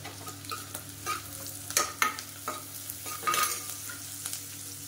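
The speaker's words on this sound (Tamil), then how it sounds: "நல்லா வதக்கிக்கலாம்." Green chillies sautéed in a pan sizzle quietly while a spatula scrapes and taps in uneven bursts, up close with no voices.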